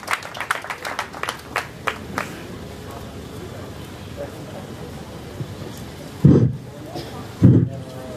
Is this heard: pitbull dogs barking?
no